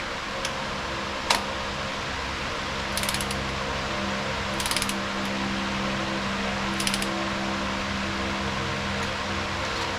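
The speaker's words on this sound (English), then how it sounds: "Torque wrench." A torque wrench tightening a spark plug on a Mercury 250 Pro XS four-stroke outboard, heard as a few short bursts of rapid ratchet clicking over a steady mechanical hum.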